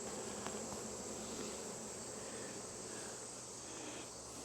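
Swarm of honey bees buzzing around a beekeeper pulling honey in August, a steady continuous drone close to the microphone with no talking.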